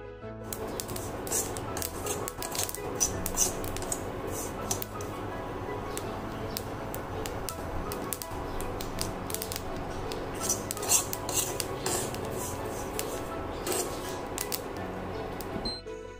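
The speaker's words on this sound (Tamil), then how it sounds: "நல்ல மணம் வர வறுக்கும்போது டப் டப்னு சவுண்டு கேட்கும்." Black sesame seeds dry roasting in a pan over a slow flame give off dense, steady crackling and small pops, with sharp ticks scattered throughout the whole stretch.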